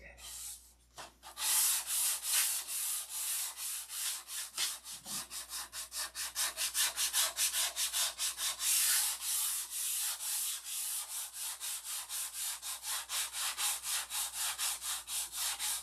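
Hand sanding by the old-fashioned way rather than a belt sander, a steady run of rhythmic rasping strokes, close and even, continuing without pause and with no talk over it.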